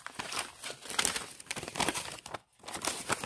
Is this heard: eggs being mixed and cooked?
no